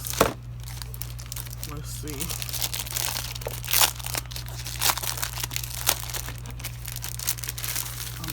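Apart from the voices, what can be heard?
plastic storage box being handled, crinkling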